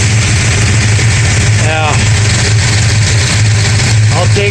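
A 1969 Dodge Charger with a 440 engine idles loudly and steadily, its exhaust rumbling close by with loose header bolts, while brief chirping squeaks cut in a couple of times over the constant drone.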